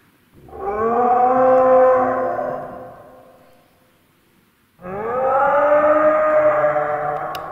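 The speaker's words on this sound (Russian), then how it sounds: "Там динозавр." A toy dinosaur gives two long, wavering roars, each lasting about three seconds with a short silent gap between them. They sound loud and close, with a droning, siren-like tone.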